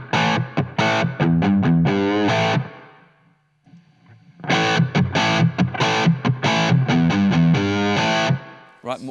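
A heavily distorted electric guitar plays chugging, rhythmic chords through a Blackstar HT Venue MK3 amp, pausing briefly in the middle before resuming loud and sustained.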